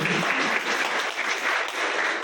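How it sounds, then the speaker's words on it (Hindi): Loud, dense applause from a crowd fills the whole stretch without a break, recorded at a Republic Day celebration held in a Laxmi Narayan temple compound in Sadhaura. "जोरदार तालियां अपने देश के लिए।"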